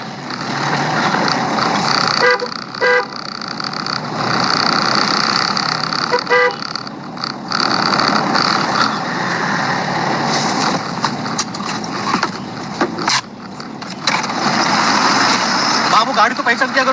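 Cars and trucks pass on a busy road with repeated horn toots cutting through the steady traffic roar, while a voice talks loudly over the noise throughout.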